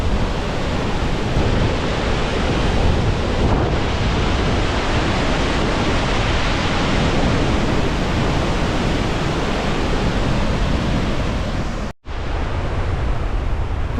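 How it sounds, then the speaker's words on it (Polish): A loud, continuous roar of Victoria Falls fills the whole clip, dense and unbroken, cutting out for an instant near the end. "woda od wodospadu odbija się od dna, wraca z powrotem"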